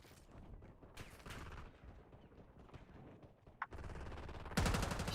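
Video game combat with rapid bursts of gunfire and a grenade blast, loud, dense and continuous, with sharper volleys toward the end and no speech.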